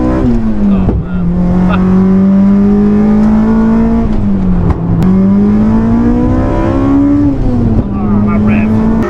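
A loud, tuned Honda Civic Type R EP3 engine bounces on its rev limiter, a sustained high-pitched VTEC wail with rhythmic stutters and dips, very close and dominant, with voices faintly audible underneath.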